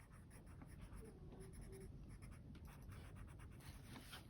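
Colored pencil and crayon rubbing across paper, a soft continuous scratchy scribble with quick back-and-forth strokes, close up and quiet, no voice heard.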